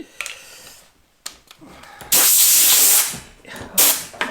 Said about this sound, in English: I'm going to blow it all out, with a blower